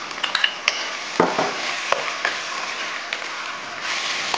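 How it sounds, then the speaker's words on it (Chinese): Ginger, garlic and chopped chili stir-fried in a pan, giving a steady sizzle broken by several sharp scrapes and clinks of a utensil against the pan, close up, with no voices. "先将生姜、大蒜和剁辣椒炒香"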